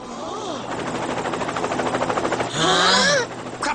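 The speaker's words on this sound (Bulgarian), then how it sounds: "Хеликоптера." A helicopter in the animated Beyblade Metal Fusion series gives off a steady, rapid rotor chop that builds up, while voices shout and speak over it near the start and end.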